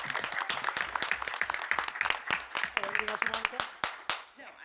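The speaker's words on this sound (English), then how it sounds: "Round of applause one more time for Scarlett." Applause from the audience at a Roselle Park borough council meeting, fairly faint and uneven, with scattered claps mixed in among voices talking over it.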